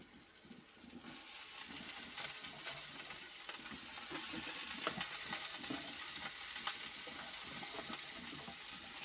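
Cauliflower and peas drop into a pan with onion, tomato and cumin and crackle in a dense, continuous close sizzle, with light stirring.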